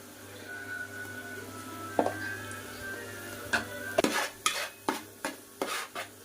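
Tomatoes and chili powder stirred in a pan, first a few scattered scrapes, then a steady run of sharp, close utensil knocks against the metal over a faint low hum.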